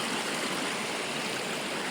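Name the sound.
water flowing through a dam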